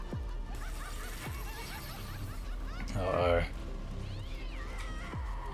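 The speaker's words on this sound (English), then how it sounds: "Oh, the cat!" A cat meows several times in short rising and falling calls, heard beneath and between people talking and laughing.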